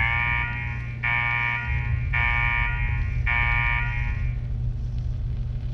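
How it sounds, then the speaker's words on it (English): A pulsing alarm from Fallout 4 blares in repeated long tones, about four bursts roughly a second apart, over a steady low rumble of game ambience. "What the hell is that alarm?"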